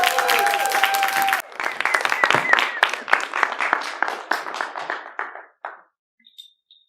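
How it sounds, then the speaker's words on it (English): A conference audience gives a live speaker a big round of applause, dense close clapping after a spoken introduction, then thinning into scattered claps and fading to silence. "please give a huge round of applause"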